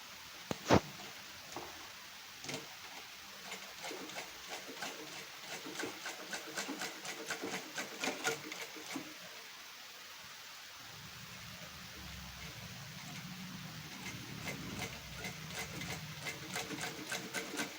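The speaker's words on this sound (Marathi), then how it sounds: "आपण आता टीप मारून घेऊयात तर ती पण कशी बघूयात आपण मारायची तर ती पण अशी शिस्तीत शिस्तीत टीप मारून घ्या" Sewing machine stitching the neckline of a blouse piece, bursts of rapid, close mechanical ticking that start and stop, then a lower, softer running stretch near the end, with no talking.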